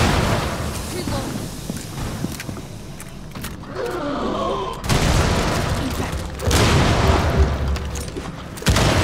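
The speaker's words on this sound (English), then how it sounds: "Throwing impact grenade." An impact grenade goes off in a first-person shooter firefight, a brief booming burst in the middle followed by sustained gunfire and loud battle noise. Voices talk over the action.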